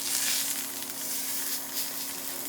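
A sous vide bison ribeye sizzles loudly and steadily in a hot pan as it is seared and flipped, a continuous close frying hiss with no talk.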